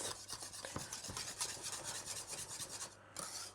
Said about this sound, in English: We're gonna add straight away our butter to cool down the temperature, and we'll keep whisking for a little bit until the butter is melted.